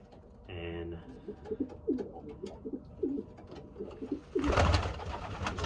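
Racing pigeons in a loft give repeated low throaty coos in a steady rhythm, close and clear, followed by a burst of wing flapping near the end.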